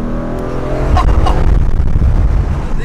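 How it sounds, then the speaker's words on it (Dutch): A Mercedes-AMG GT R Pro roars past with a loud, deep exhaust, and a couple of sharp pops and crackles ring out over the heavy engine rumble. "Ik heb mijn auto nog nooit voorbij horen komen, überhaupt."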